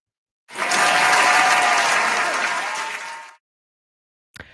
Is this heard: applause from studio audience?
yes